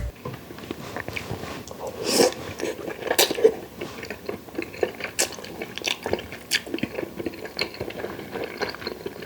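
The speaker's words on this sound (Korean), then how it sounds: "자 그러면 우동을 한번 먹어보도록 하겠습니다" Close, wet chewing and slurping of udon noodles tossed with chicken galbi and cheese, in irregular bites and squishy mouthfuls without speech.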